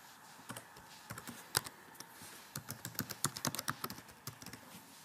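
Quick, irregular bursts of computer keyboard typing, close and fairly quiet, as an email address and password are entered at a login screen, with short pauses between runs of keystrokes.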